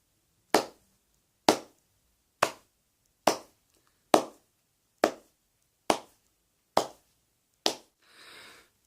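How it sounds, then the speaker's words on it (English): A single person claps slowly and deliberately, nine sharp, close claps spaced evenly about a second apart with silence between them, followed by a soft rustle. "A round of applause directed at everybody involved."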